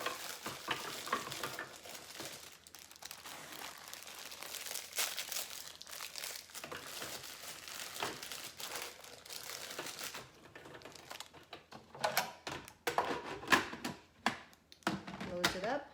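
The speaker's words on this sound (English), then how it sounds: "we're just going to put the Oreos into our food processor" Oreo cookies tumbling into a food processor bowl, a run of crinkly rattling and scraping from packaging and cookies dropping in, ending in sharper bursts of handling clatter close by.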